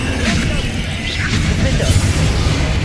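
In Hogwarts Legacy, Bombarda and Confringo spells go off as repeated blasts and crashes during a busy battle, with constant game noise around them.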